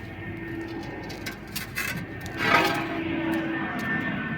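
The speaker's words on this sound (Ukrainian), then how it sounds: "літаки гудуть" Airplanes drone overhead at a distance, a faint continuous hum that swells about halfway through and then holds, with light bird sounds and small outdoor noises around it.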